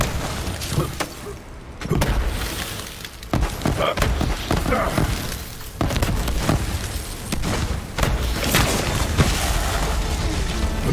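Explosions and blasts in a chaotic shooter video game, several booming bursts and thuds spread across the clip amid dense gunfire and effects, with a voice talking over the action.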